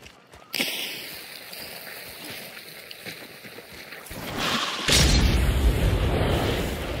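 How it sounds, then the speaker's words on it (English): A hellfire bomb in a video game detonating with a heavy rumbling boom that surges up and lingers as a loud roaring wash after a quieter stretch of ambient noise. "Oh, it was a hellfire bomb."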